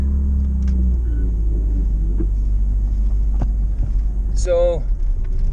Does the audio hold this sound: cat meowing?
no